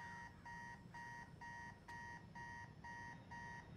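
Steady electronic alarm in a Spider-Man video game, repeating evenly spaced bright beeps about twice per second, clear and moderately loud over a low background rumble.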